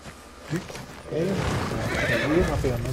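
A horse whinnies loudly with a rising, wavering call, clear and close, over a steady background bed with light clip-clop hints, in the video game Ghost of Tsushima.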